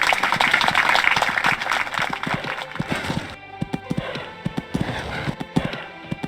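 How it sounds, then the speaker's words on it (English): Horse hooves beat in an extended canter during a Burghley Horse Trials dressage test, a rhythmic clip-clop that is muffled at first and then sharper and distinct, with faint crowd noise behind it. "Extended canter coming up."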